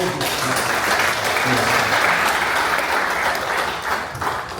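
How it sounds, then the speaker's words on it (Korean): A church congregation of retired pastors and their wives applauds loudly, a dense, steady wash of many hands clapping together that lasts several seconds before tapering slightly. "박수 한번 크게 해주십시오"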